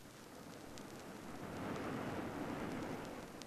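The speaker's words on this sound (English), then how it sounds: "This is the sound of millions of gallons of water falling from a tremendous height." A broad, steady roar of falling water rumbles continuously, swelling slightly midway, like a distant waterfall with no voices.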